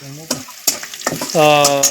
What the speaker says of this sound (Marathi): जिरा मोहरी टाकले फोडणीसाठी